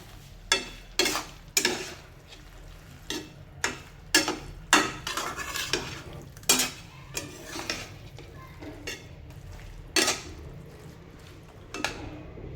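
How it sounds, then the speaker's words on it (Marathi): Soaked soybeans sautéed in a pan for tomato pulao, with a low sizzle under a string of sharp spatula scrapes and knocks at an uneven rhythm, close by, no talking. "आता इथे मी सोयाबीन भिजत घातलेले होते ते टाकून घेते, हे पण छान परतून घ्यायचं आहे"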